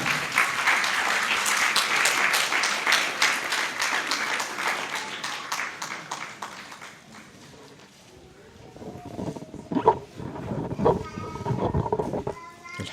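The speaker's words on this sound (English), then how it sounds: "let's give a very big round of applause to the father of the author" Audience applause for Alhaji Sulleyman, the author's father, at a book event: a loud, dense round of clapping fills the first seven seconds, then fades as a voice begins speaking amid scattered noise.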